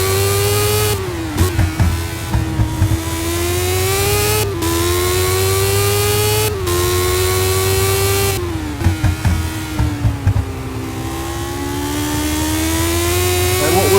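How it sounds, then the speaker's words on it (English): Racing cars from a GP Anniversary Championship race cross the start-finish line one after another, each engine rising and falling as it sweeps past, with about five close passes in a relentless stream. "It's car after car that keeps crossing that start-finish line."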